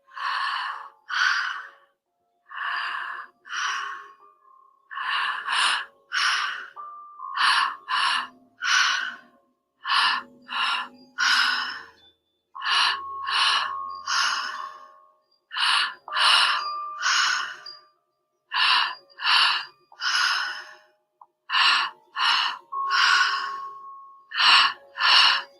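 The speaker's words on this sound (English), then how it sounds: "Slacking the jaw off completely. And just breathing in and out." Slow, deliberate breaths in and out taken with the jaw fully slack, each inhale and exhale a soft airy rush close to the listener, repeating steadily in short bursts with brief pauses between, no talking.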